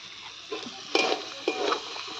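Cabbage being stirred in a frying pan with a spoon, cooked with shrimp for a Bengali chorchori: a steady hiss of frying with a few scraping knocks of the utensil against the pan, close and moderately loud.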